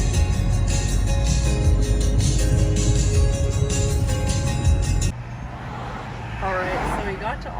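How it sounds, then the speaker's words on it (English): Road traffic in Austin, a loud, dense, steady rumble of vehicles that drops to a quieter hiss partway through, with a voice talking over it. "there's a lot of traffic here."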